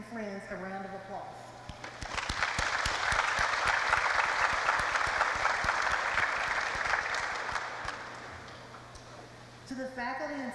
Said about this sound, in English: Students, please join me in giving your families and friends a round of applause.